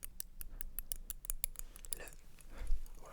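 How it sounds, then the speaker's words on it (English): Scissors snipping close up in a quiet room, a rapid series of crisp metallic cuts and blade scrapes, soft and intimate with no talking. "you can also get a variety of interesting sounds out of scissors."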